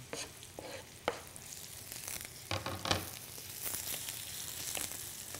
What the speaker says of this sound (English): I'm going to take my onions and drop them in.